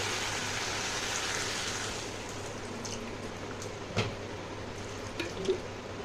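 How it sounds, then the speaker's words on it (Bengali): Water poured into a spiced vegetable curry in a hot pan gives a steady hissing splash for about two seconds, then settles into a quieter bubbling with a couple of soft clinks. "দিয়ে দেব জল একটু অল্প জল দিয়ে দিচ্ছি"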